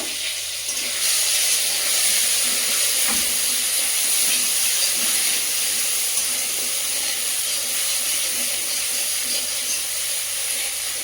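Ginger and cumin paste hits black cumin in a hot kadai for a bhola fish curry. It gives a loud, steady, close sizzling hiss that runs unbroken throughout, with no voices.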